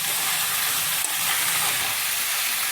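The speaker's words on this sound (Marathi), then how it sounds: "आणि मग त्याला मस्तपैकी आपल्याला एक 6-7 मिनटं ना असंच मोठ्या आचेवर फ्राय करत राहायचं आहे" Chicken sizzles and fries in a pan over high heat, a steady close hiss with small crackles and one or two clinks, no voices.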